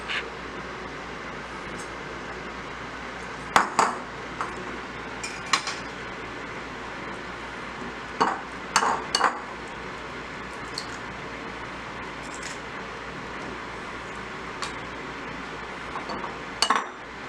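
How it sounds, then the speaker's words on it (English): Eggs cracked and whisked in a bowl for fried chicken breading give scattered light clinks and taps, a few isolated sharp knocks with soft scraping between them, fairly quiet with no talking. "Our breading consists of 2 large eggs that I'm gonna crack and whisk."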